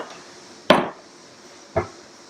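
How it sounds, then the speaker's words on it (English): A knife cuts a lemon in half on a board in a kitchen, two sharp knocks of the blade meeting the board about a second apart, close and fairly loud over a quiet room. "Now, just take the first lemon, slice it right in half,"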